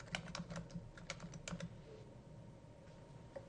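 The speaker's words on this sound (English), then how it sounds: "the author John Grisham, here is where you would type in that name" Faint, close keystrokes tap in short uneven clusters on a computer keyboard as a name is entered into a library catalog search, then trail off into quiet.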